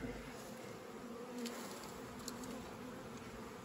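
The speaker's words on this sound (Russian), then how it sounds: "с такой пчелой приятно работать" Honey bees buzzing around hive frames at a queen breeder's apiary, a steady, close, continuous drone with faint individual wingbeat flickers passing by.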